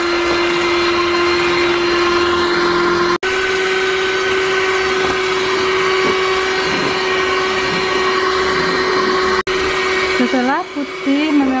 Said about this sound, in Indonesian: Setelah putih mengembang dan kaku, kemudian matikan lagi mixernya.